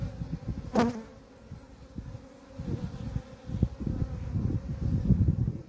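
Honeybees crawling over a hive frame during a February colony inspection, producing a close, continuous droning buzz that rises and falls, with a sharp brief sound early on and no talking.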